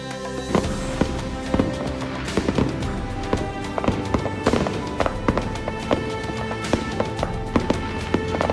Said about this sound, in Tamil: வெளியில் வெடி சத்தத்துக்கும்